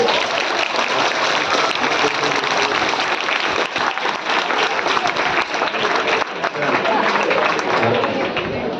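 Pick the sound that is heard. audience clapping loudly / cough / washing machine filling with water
audience clapping loudly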